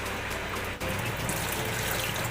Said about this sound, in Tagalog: Lagyan mo ng tubig yan hanggang sa dito,